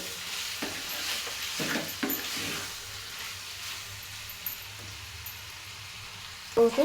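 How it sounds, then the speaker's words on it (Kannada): Food frying in a pan with salt just added, giving a steady sizzle with a few scraping stirs and a sharper clatter near the end. "ಫ್ರೈ ಆಗ್ತಾ ಇದೆ"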